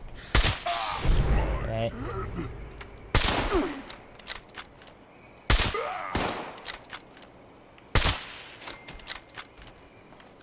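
Quad sniper rifle shots in the post-apocalyptic game Fallout 76: four loud, sharp cracks spaced about two to three seconds apart, each followed by a brief echo and mechanical clatter, with a short spoken word early on.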